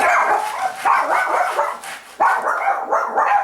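Puppies bark and yip close by, a busy overlapping stream of high-pitched yaps that continues throughout.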